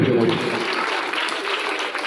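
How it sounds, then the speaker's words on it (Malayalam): Audience applause at a school prize-giving ceremony for arts festival and science fair winners, a steady dense patter of many hands clapping close by, continuous throughout. "നല്ല ക്ലാപ്പ് കൊടുക്കല്ലോ."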